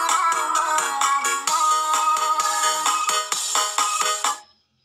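Ringtone melody playing through the stereo speakers of a Tecno Pova Neo 2 phone, a loud, steady run of bright repeating tones heard alone that cuts off near the end.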